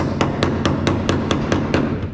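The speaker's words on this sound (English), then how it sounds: "I didn't actually know you could hammer rust." Repeated hammer blows on rusty metal panels of an endurance race car body under construction, about nine sharp, evenly spaced strikes ringing out loud and close over a steady workshop background.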